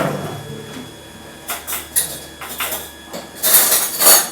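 Spoon and fork pulled from a kitchen drawer during home cooking: a series of short metallic clinks and rattles, building to a louder cluster of cutlery clatter near the end, close and alone.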